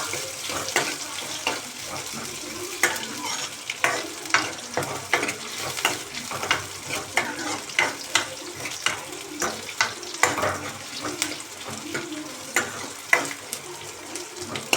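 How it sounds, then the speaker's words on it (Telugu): Onions frying in a tempering pan with mustard seeds until golden, a soft sizzle under irregular scraping and tapping of a spoon stirring, fairly close and moderate in volume. "ఉల్లిపాయ అనేది కొంచెం గోల్డెన్ కలర్ వచ్చే వరకు వేసుకున్నాము"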